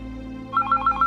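A telephone rings in a television serial scene, giving a few quick, evenly spaced electronic chirps that start partway through over a low steady hum.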